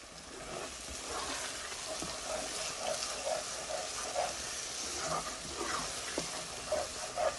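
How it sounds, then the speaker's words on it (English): Kasuri methi being stirred into a potato and pea curry masala in a hot pan: a soft, continuous sizzle with light scraping strokes of a spoon, fairly quiet and close, with no talking. "we're just going to put the 1 tablespoon of kasuri methi in and just stir that in"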